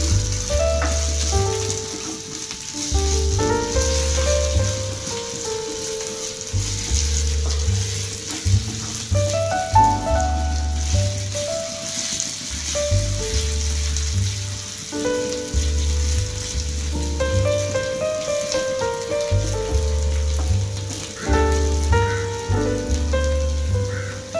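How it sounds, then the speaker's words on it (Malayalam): Ginger frying in coconut oil for a Kerala-style ginger curry, a steady rain-like sizzle running the whole time beneath louder melodic background music. "ഇഞ്ചി ഒന്ന് വറുത്ത് കോരിയെടുക്കണം."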